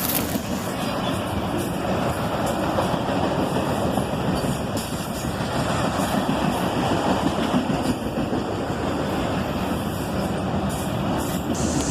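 A CSX freight train led by an ES44DC and an AC44CW locomotive in YN2 paint rolls past steadily, a continuous rumbling wash of wheel and car noise holding at even loudness throughout, with no voices.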